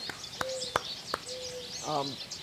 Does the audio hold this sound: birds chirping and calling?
yes